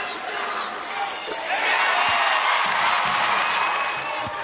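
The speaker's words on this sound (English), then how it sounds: "Taking advantage of the energy that is coming from the crowd." Home crowd cheering at an NCAA tournament college basketball game between Texas and Louisville, a swelling roar of voices with whoops that builds midway, under a commentator talking throughout.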